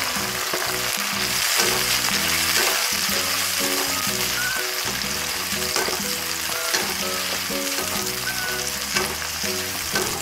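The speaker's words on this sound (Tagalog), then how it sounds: "Kapag nagisa na ang bawang, sibuyas at kamatis, ilagay na ang carrots." Garlic, onion and tomato sizzle steadily in a pan for a vegetable dish, loud continuous frying with a faint rhythmic stirring pattern underneath and no voices.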